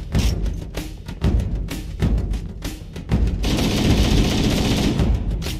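Rapid gunfire and heavy weapon blasts from Halo: Combat Evolved, with dense bursts and sharp shots over the first three seconds, then a sustained roaring barrage, loud and close.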